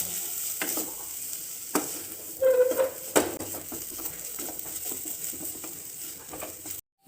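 A cooked carrot and beetroot mixture is stirred in a pan for a veg cutlet filling, with soft scraping and occasional spoon knocks over a faint sizzle, close and alone.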